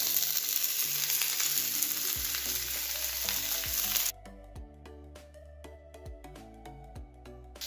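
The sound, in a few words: dal and boiled sweet corn frying in a pan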